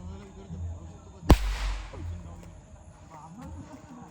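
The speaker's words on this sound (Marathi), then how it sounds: "कोणता तरी बॉम्ब घेतलाय, बेडी बॉम्ब, आणि पडत चाललाय." A single firecracker bursts with a sharp, loud crack followed by a short rumbling tail, heard outdoors under background talk, with a few fainter pops after.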